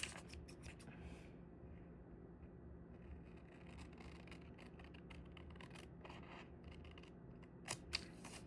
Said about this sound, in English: Here's my scissors.